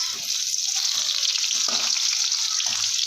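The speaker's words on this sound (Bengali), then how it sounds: "এবার পেঁয়াজটা আমি ভালো করে লাল লাল করে ভেজে নেব" Onion slices frying in hot oil after five-spice seeds have been tempered, for a bitter gourd and rohu fish dish; a steady close sizzle runs throughout with a few soft stirring knocks, and no talk.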